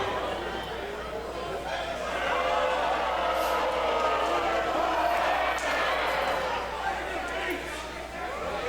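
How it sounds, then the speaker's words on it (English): Loud, rowdy capacity crowd at an independent wrestling show chanting and cheering for a wrestler named Jeff, a dense, sustained roar of many voices with rhythmic swells, steady throughout. "these fans getting Jeff going with this chanting"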